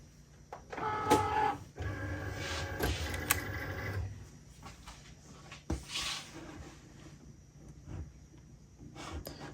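A Cricut cutting machine draws a mat in for an iron-on vinyl job, giving short motorized whirs and clicks in quick bursts, with a louder stretch early on and scattered softer mechanical taps afterward, close by and with no talking.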